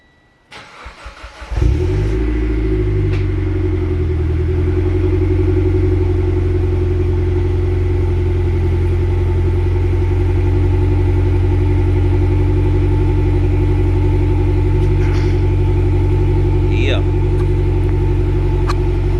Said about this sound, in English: So let's get this cold start going on, man.